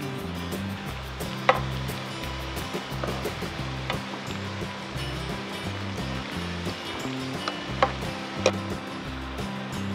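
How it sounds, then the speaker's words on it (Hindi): Pointed gourd (parwal) frying in oil on a high flame, a steady broadband sizzle with a few sharp pops and spatters, close and continuous with no talking. "परवल हमें हाई फ्लेम पे ही तलने हैं।"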